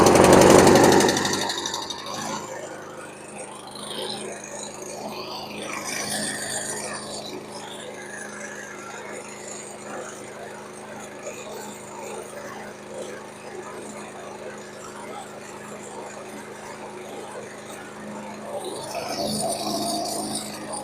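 A 2018 Yard Machines lawn mower with a bent blade fires up loudly with a sharp burst, then settles into a steady, rough running drone close by, swelling again near the end.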